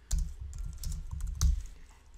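Computer keyboard typing, keys clattering in quick irregular bursts with two louder strokes, close and fairly quiet, no voices.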